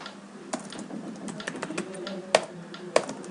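Keys clatter on a computer keyboard as switch configuration commands are typed, a quick irregular run of soft clicks capped by two sharper, louder key strikes near the end; close and alone with no talking.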